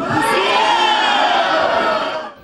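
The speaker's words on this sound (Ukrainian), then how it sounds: "Аплодисменти і ганьба по черзі звучали в залі" A packed hall of townspeople at a protest meeting over utility tariffs in Korosten, the crowd shouting and clamouring loudly and continuously, a dense wall of raised voices filling the room before tapering off at the end.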